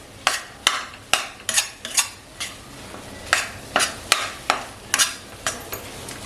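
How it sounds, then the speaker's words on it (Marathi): Gram flour (besan) roasting in ghee over a low flame for besan ladoo: about a dozen rhythmic, close scraping strokes of a spoon against the pan over a soft, low sizzle. "बेसन भाजायला थोडा टाइम जातो"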